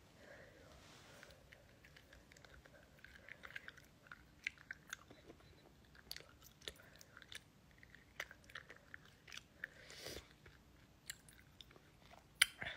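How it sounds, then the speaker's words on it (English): Wax candy being chewed close to the mic, with soft wet bites and crunchy chomps coming in an irregular rhythm and a few sniffs in a quiet room. "they're wax candy, so you could just chew on them"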